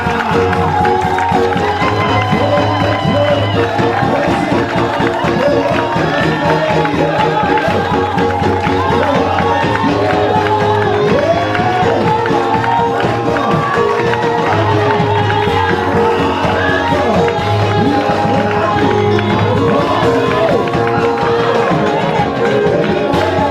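A church congregation cheering loudly for the Lord: a dense, sustained roar of shouts and whoops from a large crowd, steady and full throughout, with a voice faintly mixed in.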